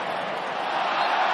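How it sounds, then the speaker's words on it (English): A football stadium crowd at a Tottenham versus Southampton match applauds appreciatively, a dense, steady roar of clapping and crowd noise that swells slightly toward the end. "appreciative applause"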